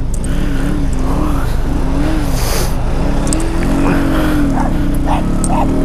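A dog barks and yips in short bursts over a constant engine hum from a motorbike, with some whimpering tones between the barks.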